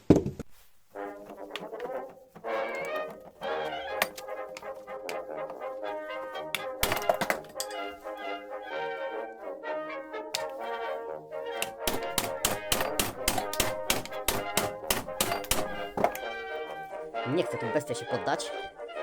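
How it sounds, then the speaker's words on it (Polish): Someone talks while sharp knocks and taps strike plastic as a rotor is knocked out of its plastic housing, with a fast run of repeated hammer blows near the end. "wybiję sobie jeszcze ten wirnik z tego plastiku, z tego tworzywa"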